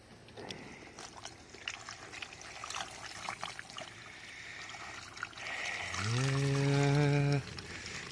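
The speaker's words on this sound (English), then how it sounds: "Let's just pour the rest in there." Washer fluid is poured into the windshield washer reservoir of a 2008 Nissan Xterra, a steady glugging, rising pour near the end after quiet handling noises, close and fairly loud.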